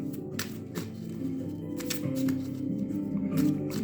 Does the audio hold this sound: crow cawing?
no